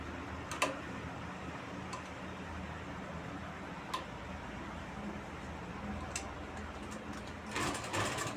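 A sewing machine stitches a neckline on a garment in a quiet, even mechanical hum, with a few faint clicks and a short rattling burst near the end.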